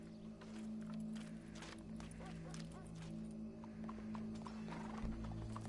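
Horse hooves clopping with a short whinny in Red Dead Redemption 2, faint and close, over a steady low hum and background bustle.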